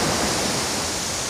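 Bugsukan Falls waterfall near Misibis, Tiwi, Albay, a close, loud, steady broadband rush of falling water filling the whole moment without any voices.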